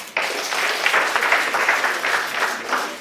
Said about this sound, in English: Just give everyone a round of applause.